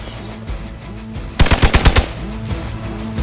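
A rapid burst of about seven gunshots in the video game Marvel's Midnight Suns, loud and punchy, rising from a quieter ambient game soundtrack and fading back into it.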